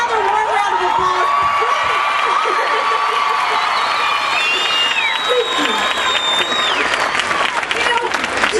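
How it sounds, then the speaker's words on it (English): A large crowd applauds at the Glendale Glitters holiday event after Jordin Sparks reads a Christmas story, producing loud, dense, sustained clapping with cheers and high whoops rising throughout. "Another warm round of applause"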